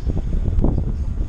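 Wind gusting across a mountain bike park at Crans-Montana, a close, rumbling buffet of low noise that flutters unevenly throughout, with no voices.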